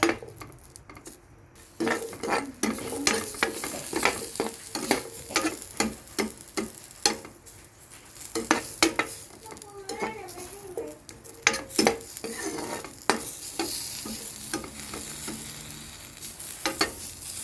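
Dried chilies dry-roasting in a pan for Lao jaew dipping sauce, with frequent sharp scrapes and clinks of a utensil stirring against the pan over a faint, continuous sizzle, close and busy throughout.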